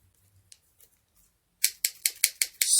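Scissors snip through the box packaging of a 1985 Texas Instruments Speak & Music, about six crisp, evenly spaced cuts after a quiet stretch of faint handling noises.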